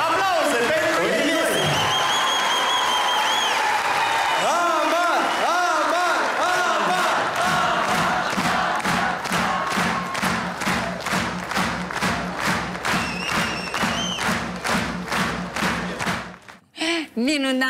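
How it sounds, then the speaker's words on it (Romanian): A concert crowd cheers and chants, with a long stretch of loud rhythmic clapping in time, the noise filling the space close and continuous before cutting off abruptly. "Aplauze pentru ei!"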